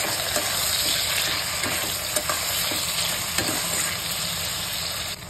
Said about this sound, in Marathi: आता टोमॅटो टाकायचं, टोमॅटो पण 2 मिनिटं परतून घ्यायचं